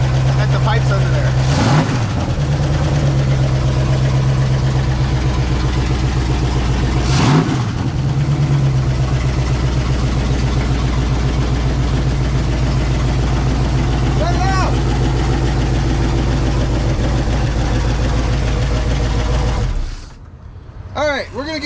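An open-piped Dodge Ramcharger engine with its exhaust cut off at the pipes idles loud and rough, with a couple of brief revs early on, then cuts out near the end.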